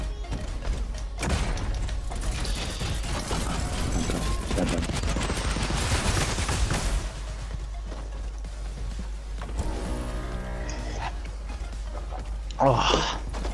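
Gunfire in a mech combat video game, dense bursts of rapid shots and thuds for several seconds, then sparser blasts and a late loud hit, with voices talking over it.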